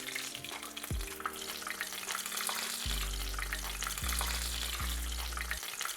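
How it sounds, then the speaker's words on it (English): Shrimp empanadas frying in hot oil in a pan, a dense, loud, continuous sizzle close by, with low tonal hum tones beneath and no speech. "we're gonna start frying the empanadas"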